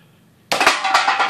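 In a home shooting gallery, a shot strikes a can: after near silence comes one sudden, loud metallic clank that rings and rattles briefly.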